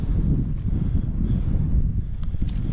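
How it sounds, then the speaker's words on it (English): Wind buffets the microphone on a walk up a hill in Cumbria, a steady low rumbling roar with gusty fluctuations, loud and close, with faint rustling behind it. "a slight breeze, probably about 10, 12 mile an hour."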